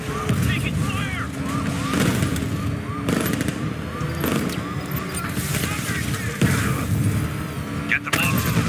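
Gunfire aimed at Batman during a car chase in Batman: Arkham Knight, with bursts of shots and impacts over a constant engine and road rumble, mixed with game voices talking.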